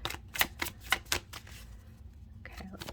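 Tarot or playing cards being tossed and shuffled by hand, giving a quick series of crisp slaps and flicks up close, followed by a softer rustle near the end.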